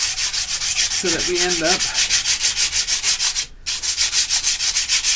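Steady back-and-forth rasp of 80 grit sandpaper shaping a wooden crossbow tiller, a regular rubbing rhythm of close, loud strokes with a brief pause, and a few spoken words mixed in.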